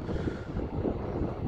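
Steady wind buffeting a microphone out in a field during ploughing with a new Valtra tractor on demo, a continuous low rumbling roar with no clear gaps.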